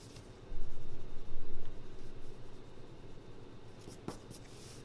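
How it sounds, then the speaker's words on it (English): An eraser rubs back and forth over pencil lines on paper, two close scrubbing bursts followed by softer rubbing, quiet and alone. "if I take my eraser and I erase my vanishing point lines"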